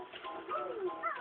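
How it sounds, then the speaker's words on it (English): Jinjo creature in Banjo-Kazooie gives a short, cooing, warbling bird-like call with gliding pitch, close and clear over a brief moment. "A ginger is this little bird thing here."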